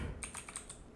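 Rapid keystrokes on a computer keyboard, about five quick clicks, heard close and fairly soft against a steady background hiss.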